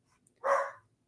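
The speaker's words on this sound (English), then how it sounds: "I'm going to go shut the front door so he stops barking." Young puppy gives a single short, sharp bark, close and fairly loud, in a quiet indoor home setting with nothing else audible.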